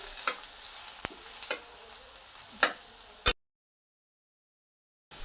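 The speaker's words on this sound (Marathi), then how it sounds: "हे बघा छान असं परतलाय बटाटा" Potato sautéing in a pan for sabudana khichdi, with a steady sizzle and several scraping stirs and clinks, close and fairly loud, then sudden silence.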